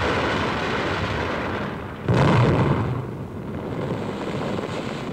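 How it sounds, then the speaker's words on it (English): WWII anti-aircraft fire during an Allied airborne operation in the Eindhoven–Nijmegen corridor: a constant rough roar carries through, and one heavy blast cuts in partway. The blast rumbles briefly before the noisy drone returns. "A heavy concentration of anti-aircraft fire brings further losses in Allied planes"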